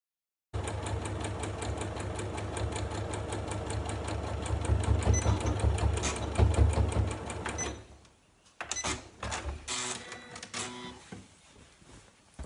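A sewing machine stitching around the top of a tote bag, a close, rapid steady whirring chatter that grows louder midway, then stops with a few short bursts and handling noises afterward.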